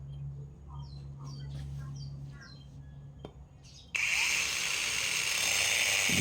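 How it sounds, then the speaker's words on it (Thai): A 4-inch angle grinder cuts 4 mm flat steel, bursting into a loud, harsh, continuous whine partway through after a quieter stretch of low hum and distant birds chirping. "เดี๋ยวลองตัดให้ดูครับ เหล็กหนาสี่มิลเหล็กแบนนะครับ"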